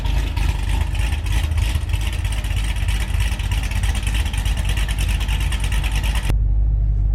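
Cammed Cadillac CTS-V V8 revving hard and steadily close up, a loud continuous engine roar with a choppy lope that cuts off abruptly near the end to a low idle rumble.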